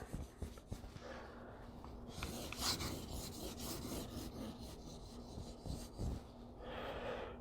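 Steady scraping and rasping strokes of a blade across a whetstone, close and fairly quiet, in an irregular back-and-forth rhythm.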